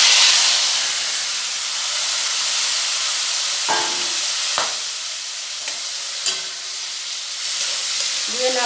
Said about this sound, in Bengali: কড়ার তেলটা খুব ভালোভাবে গরম হয়ে গেছে। এবারে ওতে দিয়ে দেব চিংড়ি মাছ।